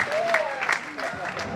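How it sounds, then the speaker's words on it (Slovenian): A crowd applauds for Slovenian basketball player Ajša Sivka at a welcome reception in Slovenske Konjice, steady clapping running beneath a voice speaking over it. "Velik aplavz za Ajšo Sivka, dame in gospodje, bravo."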